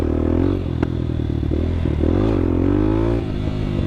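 The engine of a CSC TT250 dual sport motorcycle revs up for a small power wheelie in traffic, a close, rough engine note that rises and falls with some clattering, with no talking.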